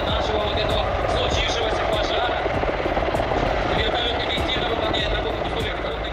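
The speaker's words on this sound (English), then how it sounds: "Kamov Ka-32, a Russian twin-rotor helicopter known for its stability in strong winds." A Kamov Ka-32 twin-rotor Russian helicopter flies steadily, its dense whirring rotor roar continuous and loud for the whole stretch.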